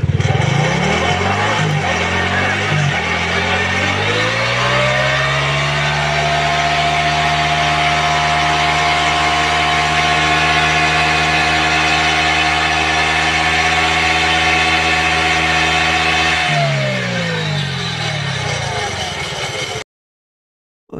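A motorcycle engine runs close by, its tone climbing as it revs up, then holding a long steady high pitch before dropping back and cutting off near the end.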